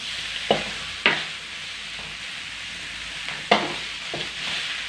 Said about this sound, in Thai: ผัดพริกกระหนูให้เข้ากัน